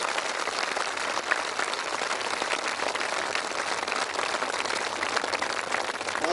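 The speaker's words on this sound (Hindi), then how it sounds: "उनके लिए जोरदार ताली बजाओ" An audience gives sustained, loud applause for three women at a Brahma Kumaris ground-breaking and dedication ceremony in Bahadurgarh, a dense, even wash of many hands clapping with no pauses.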